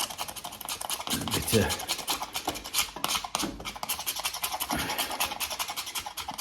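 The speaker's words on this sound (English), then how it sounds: "bit of paint scratching" Continuous rough scraping strips paint from an interior wall near a chimney breast during damp-proofing work, a steady gritty rasp close by with rhythmic strokes and faint breathing throughout.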